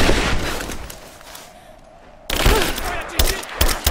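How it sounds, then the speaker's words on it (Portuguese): Video game gunfire in Rise of the Tomb Raider: bursts of rapid shots and heavy blasts fill the opening, fade to a lull, then a sharp new volley erupts with repeated loud cracks and thumps. "Tomando tiros!"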